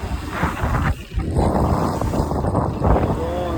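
A fishing boat's engine runs at full throttle at sea, giving a loud, continuous roar buffeted by heavy wind noise.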